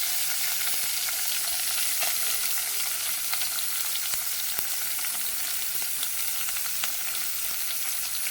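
Small onions (shallots) sautéing in a hot pan, a steady close sizzle and crackle throughout with faint occasional stirring ticks, no voices.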